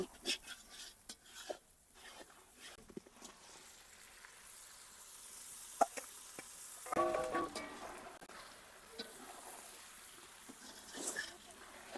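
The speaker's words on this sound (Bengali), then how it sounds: "এখন আমি মাংসটা এর মধ্যে ঢেলে দেব" Chicken meat tipped into a pan of spice paste already fried until the oil separates, setting off a broad, close sizzle with a few clinks of a utensil against the pan, while someone talks over it now and then.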